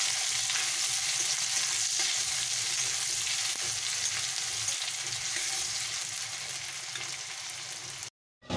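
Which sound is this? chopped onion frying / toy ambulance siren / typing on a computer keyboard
chopped onion frying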